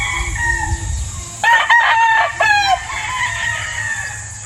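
A Gilmore gamefowl rooster on a farm crows loudly and close by in a single drawn-out call, with softer fowl clucking before and after.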